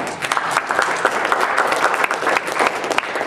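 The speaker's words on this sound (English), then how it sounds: "You guys deserve a big clap in the hand." Steady applause from a room of people at a youth football league annual meeting, honoring the league commissioners: dense, continuous clapping at moderate distance, lasting a few seconds with no voices on top.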